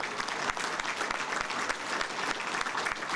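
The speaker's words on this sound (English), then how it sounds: "How about a round of applause for Greg Golis?" Banquet audience applauding, a dense, steady wash of many hands clapping at an even level throughout with no pauses or talk.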